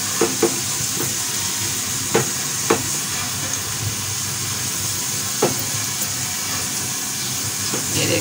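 Onions and whole chillies frying to golden brown in a pan on an Indian stovetop, a steady loud sizzle with occasional crackles and spoon scrapes throughout.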